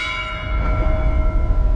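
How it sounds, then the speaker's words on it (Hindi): A bell rings loudly with a sustained metallic tone and shimmering overtones, its resonance holding steady against a low rumbling background. "तो चांद घंटी की तरह बजा।"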